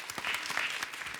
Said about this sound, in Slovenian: en velik aplavz in čestitke še enkrat za osnovno šolo Vavta.